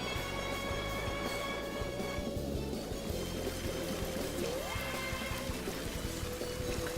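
Muffled underwater ambience in the Sonic fan game Green Hill Paradise, Act 2, with a steady, dull watery wash and faint bubbling tones running unbroken throughout.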